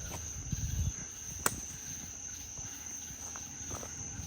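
Crickets and other insects chirp steadily in a swamp, a constant high trill in the background, with a few footsteps or rustles near the start.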